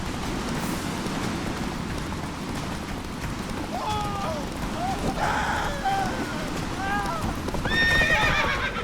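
Roach the horse galloping in The Witcher 3, rapid rhythmic hoofbeats pounding steadily throughout, joined by whinnying calls and a voice speaking over the run.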